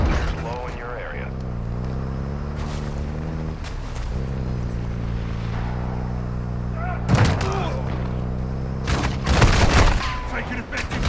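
Call of Duty battlefield with bursts of automatic gunfire and sharp explosive blasts cutting through a droning engine hum, loud cracks clustered near the end, with voices talking over the din.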